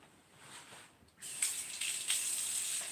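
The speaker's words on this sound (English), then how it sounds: "Wash my hands off real quick." Water runs from a kitchen tap as hands are rinsed under it, a steady hiss that starts softly then turns louder and fuller after about a second, continuing alone with slight surges.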